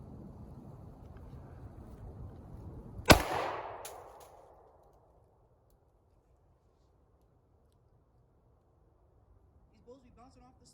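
A single sharp BB gun shot cracks against stone outdoors, rising briefly over steady wind rumble and then fading into near silence.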